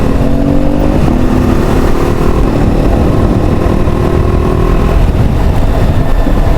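A motorcycle rides along the road back from the Vathalmalai hills toward Bengaluru, its engine rumbling loud and steady under heavy wind buffeting throughout.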